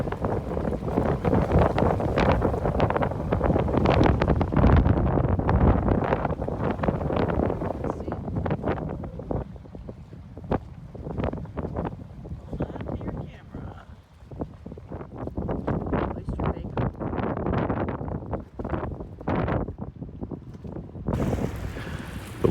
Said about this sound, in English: The wind has calmed down a little bit now, but it picks up every once in a while.